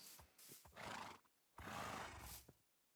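A skeleton horse in Minecraft gives two drawn-out, wavering neighs with a brief pause between them, each preceded by short clicking clip-clops. The neighs are faint and heard alone.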